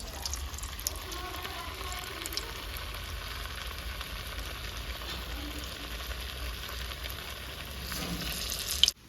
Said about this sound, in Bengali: তেল দিয়ে দিচ্ছি একটা কোপ্তাগুলো ভেজে নেবো